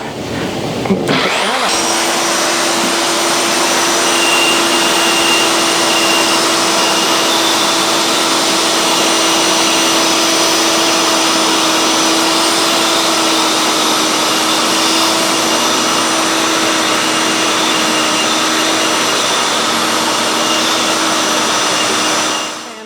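A $65 oscillating spindle sander runs steadily and loud throughout, its motor whine holding a constant pitch over a broad abrasive rushing hiss, with no talk over it.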